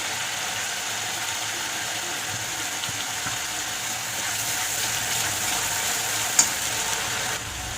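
Garlic paste sizzling steadily in a generous amount of hot oil for koi fish curry, a close, continuous hiss with a brief clink near the end.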